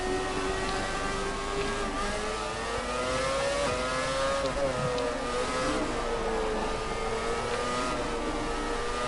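An F1 race car in the video game F1 2017 accelerates, its high engine whine climbing through the revs with a brief dip like a gear change, loud and continuous throughout.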